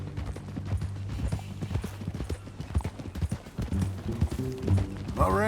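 Horse hooves clip-clop steadily along a ranch trail in Red Dead Redemption 2, with the irregular clatter running throughout under low music and a brief whinny-like rise near the end.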